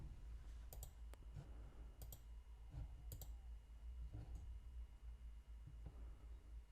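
A computer mouse clicks faintly several times in an irregular rhythm against a steady low room hum, with no talking.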